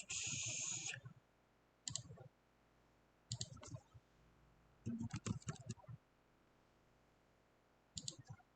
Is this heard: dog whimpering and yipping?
no